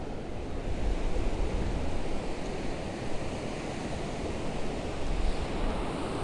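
Ocean surf breaks against a rocky shore during a fishing tournament, a continuous loud roar of rough, heavy waves with wind noise and no voices.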